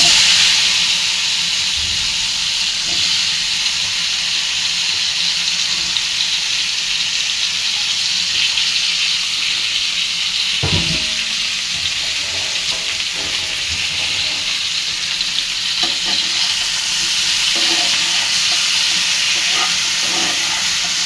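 Okra (bhindi) frying in an open pan after fish, a continuous bright hiss and sizzle with occasional clinks and stirs, close and steady throughout, no talking.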